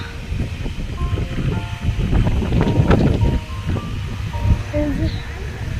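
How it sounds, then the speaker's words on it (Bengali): Strong, gusty wind buffets the microphone on a hill road at Tirupati, a loud, continuous roar with rustling trees. "পুরো ঝড়ের মতন বাতাস করছি ঝড় উঠেছে"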